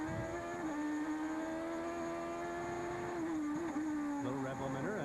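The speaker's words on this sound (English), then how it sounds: "Little rev limiter, that's good." An IndyCar race car engine at 2011 Edmonton Indy qualifying, held against the rev limiter in a loud, sustained, steady high-pitched drone that wavers only slightly before the note shifts near the end.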